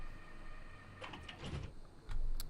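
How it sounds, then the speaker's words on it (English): Frankfurt U-Bahn train doors closing in Train Simulator 2016, a quiet mechanical sequence of sliding and clunking door movements with short warning tones, ending in a louder low thump as the doors shut. "Close the doors."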